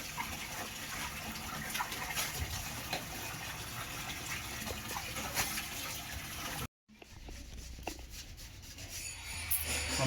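A mother scrubs and rinses kitchen utensils under running water during Diwali cleaning, making continuous close rubbing and gushing sounds that break off briefly before the scrubbing resumes.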